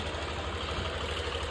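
Hero Xpulse motorcycle engine idling while run with no engine oil, after standing unused for a year; a steady, continuous mechanical rumble with a constant low throb and rattly knocking, close and fairly loud, no talk.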